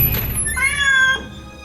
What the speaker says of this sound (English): That was the old cat.